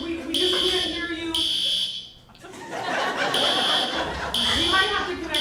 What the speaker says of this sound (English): They're testing these alarms again.